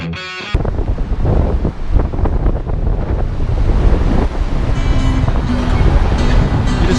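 Strong wind buffeting the microphone outdoors in Grand Rapids, a loud continuous rumbling roar with gusty surges throughout, no speech.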